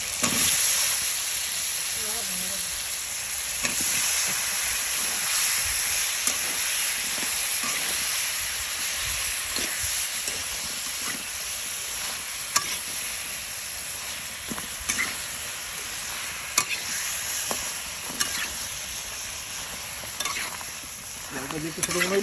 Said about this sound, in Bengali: এই যে মশলা দিয়ে কষাইতেছি এখন